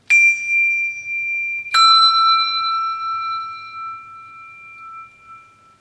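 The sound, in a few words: two handbells in one hand, struck one at a time by turning the wrist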